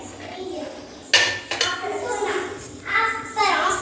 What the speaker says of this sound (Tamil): அடுப்பை ஆன் பண்ணி உங்களுக்கு ஒரு பெரிய குக்கர் எடுத்து நம்ம வச்சிடலாம்